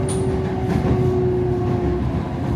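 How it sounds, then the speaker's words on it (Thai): A Bangkok Red Line electric commuter train runs between Bang Son and Bang Bamru stations, giving a loud, steady rumble with a constant electric hum throughout. "เห็นไหมคุณ รถไฟ รถไฟสายสีแดง"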